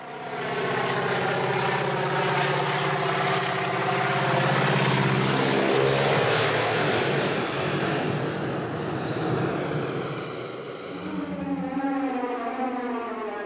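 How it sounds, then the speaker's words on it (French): A propeller airplane approaches across a desert in a Hitchcock film scene, its steady droning engine loud and continuous, the pitch shifting slightly as it nears. "jusqu'à l'apparition de l'avion."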